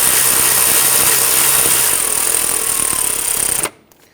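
A power tool rattles loudly and steadily while tightening intake manifold bolts on a 2011–2015 Kia Sorento, a close, continuous buzzing burst of nearly four seconds that stops abruptly.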